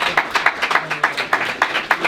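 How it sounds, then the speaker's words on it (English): At a Gillingham Football Club player of the year awards night, a room audience claps in quick, even, crisp beats, moderately loud and close, with no voices over it. "please put your hands together and clap yourselves"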